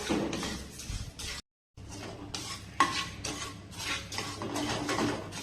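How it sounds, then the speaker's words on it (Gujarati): Whole coriander, cumin, cinnamon and cloves dry roast in a pan over a low flame for a buttermilk spice mix. Soft scraping and stirring from a spoon against the metal pan fill the clip, with a brief silent gap partway through. "આ બધું આપણે સરસ શેકી લેવાનું છે 2 થી 3 મિનિટ સુધી"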